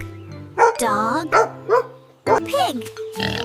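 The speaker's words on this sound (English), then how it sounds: "Dog. Dog." Dog barks heard as several short, sharp woofs and yips in quick bursts close by, with a voice also present.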